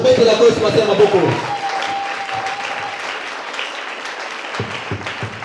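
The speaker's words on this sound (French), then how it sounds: "Acclamez le Seigneur Jésus." A church congregation breaks into loud applause and acclaim, a dense burst of clapping and cheering that fades over a few seconds into quieter scattered claps and voices.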